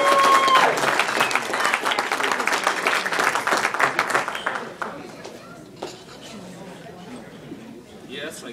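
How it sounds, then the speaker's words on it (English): Warm audience applause for a community service award winner at an honors ceremony, loud sustained clapping with chatter that fades after about five seconds into scattered claps and murmuring. "Please give a warm round of applause to our next Community Service Award winner"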